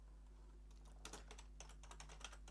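Computer keyboard keys tapped in a quick irregular run of sharp clicks, close and fairly quiet, over a steady low hum with no talking.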